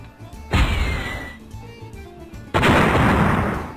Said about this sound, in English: Seriously, we have rocket launchers?